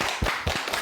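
Audience applause to encourage a Kyungpook National University student hoping to become a tree doctor, brief bursts of hand clapping with several distinct claps in under a second.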